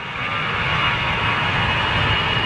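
An Aer Lingus airliner at London Heathrow, heard as a steady, loud broadband jet engine roar that holds constant throughout without a break.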